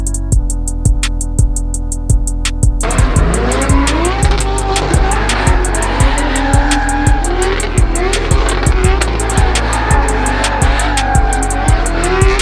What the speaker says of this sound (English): hopefully we see some pretty cool drifting